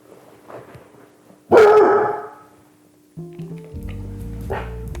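A reactive dog meeting strangers lets out one loud, sharp bark up close after a few faint sounds, then a lower mix of noise and further barking follows.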